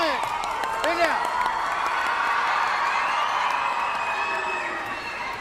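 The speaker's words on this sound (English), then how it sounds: "The crowd has turned up here at Patna to support the Indian team." A crowd at a women's Sepaktakraw World Cup match in Patna, Bihar, cheering for the Indian team against Iran, a broad roar with shouts and whoops, while a commentator talks over it.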